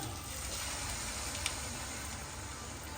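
Water pours steadily into a pot of chicken curry, a continuous close rushing splash that holds even throughout.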